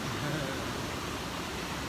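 A mountain waterfall pours with a faint, steady hiss-like rush that stays constant throughout, heard from some distance with no clear voices.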